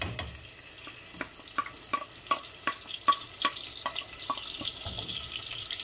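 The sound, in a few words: chopped onions frying in melted ghee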